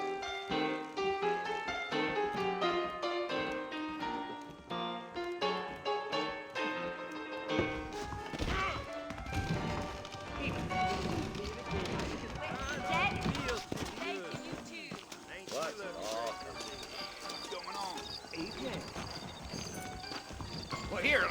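Horses galloping in the Red Dead Redemption video game, steady hoofbeats under a music score, with some speech around them.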